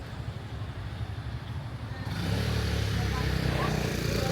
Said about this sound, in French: il y a plein de bruit de voiture